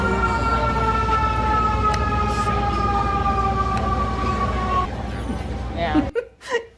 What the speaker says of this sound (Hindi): बैकग्राउंड के जो साउंड इफेक्ट हैं सारे सायरन हैं।